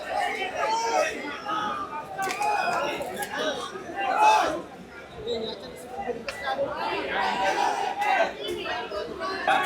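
A large night crowd of protesters at Jantar Mantar mills about, a continuous hubbub of overlapping voices and chatter with occasional louder shouts and chanting, fairly close and dense throughout.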